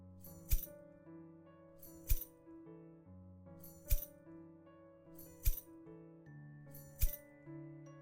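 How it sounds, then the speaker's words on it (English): A metal key ring catch sound effect: five bright metallic clinks at a slow, even pace, each ringing briefly over steady sustained tones underneath. "Keys ring catch by free sound."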